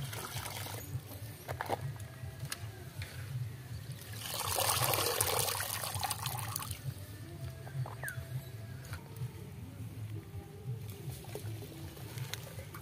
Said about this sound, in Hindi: अब हम लोग ये साग को काट के अच्छी तरह से धो के साफ कर चुके हैं